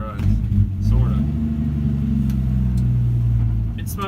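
Low, steady rumble of a 1964 Dodge D100 pickup's engine idling and revving nearby, holding a constant drone with mild swells, while voices talk over it.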